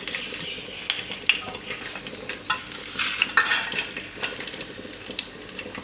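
Garlic cloves sizzle and crackle in hot oil in a pan, a continuous bright frying hiss with occasional stirring scrapes, heard up close.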